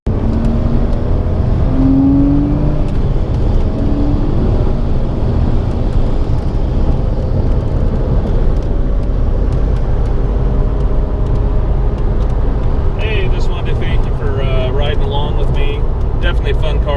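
2000 Porsche Boxster S with a factory aerokit driving by, a loud continuous engine drone and road roar throughout, rising in pitch near the end, with wind buffeting and someone talking over it.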